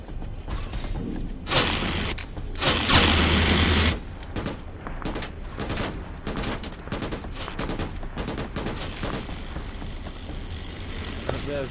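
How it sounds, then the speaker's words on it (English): A Sentry MG automatic turret fires in the Starship Troopers video game, a steady, dense rattle of mechanical gunfire running throughout, with a louder, heavier burst near the start and clanking machinery underneath. "The Sentry MG automatic."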